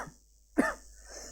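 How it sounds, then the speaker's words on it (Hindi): A single short, sharp cough sounds close by, briefly breaking an otherwise quiet background. "खांसी भी हो रही है मुझे बहुत ज्यादा।"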